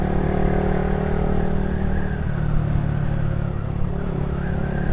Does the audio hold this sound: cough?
no